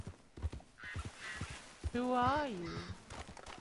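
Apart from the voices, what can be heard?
horse hooves in a video game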